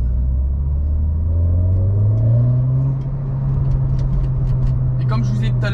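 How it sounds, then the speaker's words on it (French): Renault Clio 4 RS engine droning inside the cabin as it downshifts, low exhaust rumble with rising revs, then a few sharp crackles and pops near the end. "je pourrais bien vous faire entendre les craquements de l'échappement"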